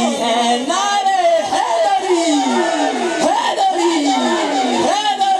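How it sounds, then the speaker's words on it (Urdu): A crowd at a milad mehfil gathering chants Mola Ali slogans in loud, rhythmic unison, voices rising and falling in repeated phrases that fill the room. "مولا علی مولا علی ہے نعرے"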